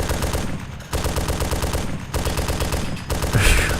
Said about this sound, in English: we can start shooting at zombies